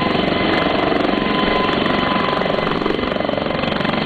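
H135 helicopter engine in Microsoft Flight Simulator 2020, a loud, steady turbine whine and rotor drone that holds constant throughout with no talk.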